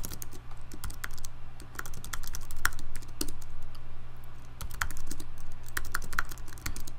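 Rapid, uneven computer keyboard typing with sharp clustered key clicks and occasional heavier keystrokes, close and steady throughout over a low constant hum, as git commands are entered.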